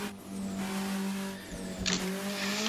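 A car accelerates hard after a shift into third gear, its engine note climbing steadily and loudly, with a brief dip in the revs and a short squeal of tires partway through.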